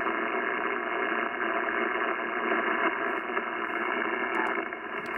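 Hiss and buzzing interference noise from a Yaesu FT-710 amateur radio receiver with its noise blanker switched on, a steady, dense band-limited roar that stays constant and fairly loud throughout.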